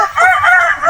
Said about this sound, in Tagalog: Tapang ng manok na ito mga kaparmers.